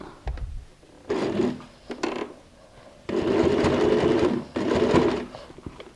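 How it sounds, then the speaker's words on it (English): A sewing machine stitches a zip onto a pyramid-style handbag in several short bursts, then one longer run, with pauses between them. "I'm going to go and place them like so and go and sew a stitch all around"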